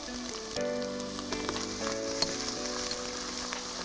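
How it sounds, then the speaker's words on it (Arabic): Onions frying in a pan for zucchini and potato soup, with a steady, close sizzle and crackle running evenly throughout with faint stirring touches and no voices. "بلشت أقلي البصل عشان البصل بياخد وقت"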